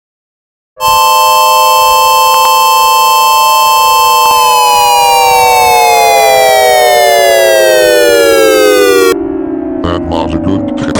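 Federal Signal and Whelen tornado sirens sound loudly in a continuous wail that holds steady, then slowly drops in pitch as it winds down, with a second siren and brief voices or noise joining near the end.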